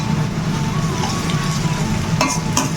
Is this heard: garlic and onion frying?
yes